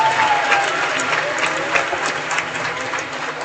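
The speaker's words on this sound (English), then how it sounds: "Give them a long round of applause." Audience applause fills a high school graduation ceremony at Kingston Technical High School, a steady, dense wash of clapping from a large crowd that holds at even strength throughout, with a faint hum beneath.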